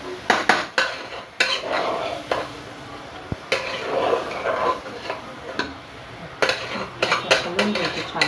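Food stirred in a metal pot while masale bhat cooks, giving busy clattering scrapes and clinks of a spoon against the pot in irregular bursts, close up, with a low murmur beneath.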